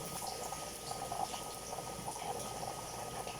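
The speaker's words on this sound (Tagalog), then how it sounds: "I-fry natin ang patatas." Potatoes frying in a pan of oil for moussaka, a steady soft sizzle and bubbling crackle throughout, fairly quiet and continuous with no talking.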